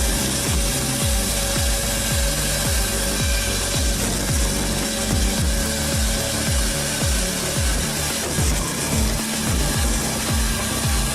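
A Pezzoletto Spec 60.60 machine cutting through wood, giving a loud continuous grinding roar with repeated rhythmic pulses, close and dominant throughout, without talk.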